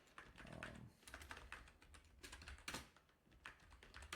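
Steady typing on a computer keyboard, quick irregular key clicks close by and fairly faint, with no talking over them.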